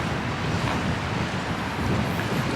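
Cold wind at Lake Padden blows steadily, a broad rushing roar with microphone buffeting and no voices.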